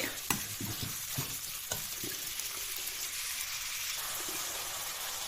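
Pork stir-frying with red curry paste and shrimp paste in a hot pan, a steady close sizzle and hiss throughout, with a few sharp spatula scrapes and knocks early on; no voices.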